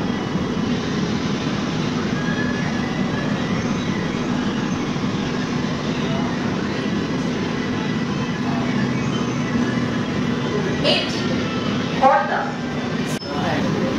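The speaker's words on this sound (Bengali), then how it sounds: "এখন আমাদের ট্রেন ছেড়ে দিল খড়দা থেকে।" An AC local train on the Ranaghat–Sealdah line runs after leaving Khardah station, a steady loud rumble and rush of wheels with a few faint clanks near the end.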